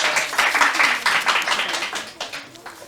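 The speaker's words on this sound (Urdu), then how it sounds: "تالیاں بجائیں ان کے لیے, آپ لوگ حوصلہ افزائی کریں" Studio audience at a quiz competition claps for a team, a dense burst of hand clapping that swells, holds briefly, then thins into scattered claps and fades.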